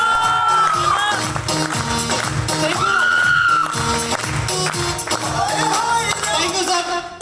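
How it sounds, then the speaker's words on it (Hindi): An audience at a network marketing core meeting in Lucknow claps, cheers and whoops loudly and continuously, with a voice carrying over the crowd. "एक बार जोरदार तालियां मिस्टर विशाल।"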